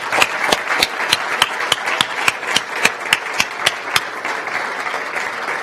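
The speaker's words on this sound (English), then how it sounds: "we'll give you a good round of applause" Audience applause for conference speakers at a logistics event, a steady dense patter of many hands with a run of sharper individual claps cutting through, fairly loud and close, with no talking over it.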